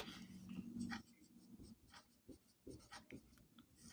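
Pen or chalk writing out lesson notes during an optics class on reflection, heard as a run of scratchy strokes in short bursts with small pauses, fairly quiet and without speech.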